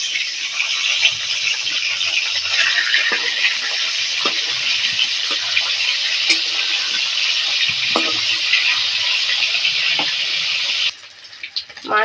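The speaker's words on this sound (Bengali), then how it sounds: "মাছটা ভাজা হয়ে গেছে, তুলে নেব।" Rohu fish fries in mustard oil in a home kitchen pan, giving a loud, steady sizzle with scattered pops and clicks that cuts off abruptly near the end.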